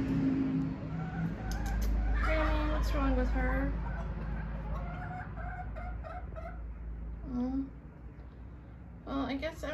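Silkie hens clucking and squawking loudly in a backyard flock, a busy overlapping chorus of calls close by, with a car passing in the background.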